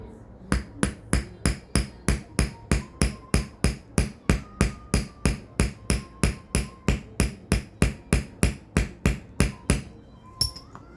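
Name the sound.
hammering a rivet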